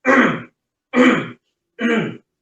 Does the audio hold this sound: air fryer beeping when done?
no